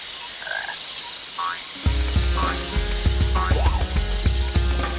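A cartoon frog croaks in Sonic Adventure DX, a run of loud, close, rhythmic croaks over steady game music and ambient tones that begin partway through.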